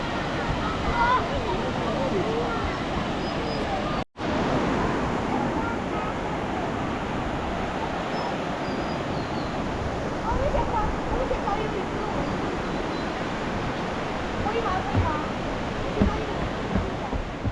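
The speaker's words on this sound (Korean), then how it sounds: "높은 곳에서 힘차게 쏟아져 내려오는 물줄기를 바라보고 있으며" Zhaga Waterfall on the Tibetan plateau near Songpan, with water pouring from a height as a loud, constant roar that fills the whole stretch and a brief cut partway through.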